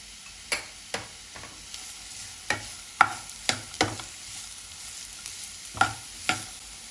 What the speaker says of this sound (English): Now our garlic is sauteed. We are going to add some vegetable.